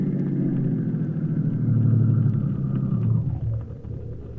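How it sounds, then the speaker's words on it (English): A car drives into a used car lot, its engine a heavy, close rumble that swells and holds before easing off and dropping away near the end, with no voices. "I drove right on into the lot."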